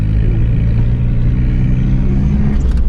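A front-wheel-drive car in second gear drifts through snow, its engine a loud, steady low rumble heard from inside the cabin, with a faint clatter near the end and no talk.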